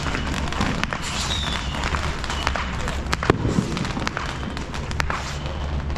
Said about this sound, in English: now we got all these people lighting off firecrackers everywhere